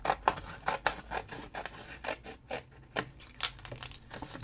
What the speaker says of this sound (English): So for this one I will just cut this one straight out.